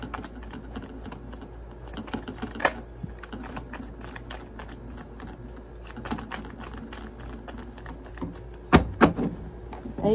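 Tarot cards are shuffled by hand in a quiet room, giving soft riffling and tapping patter with a few sharper clacks toward the end.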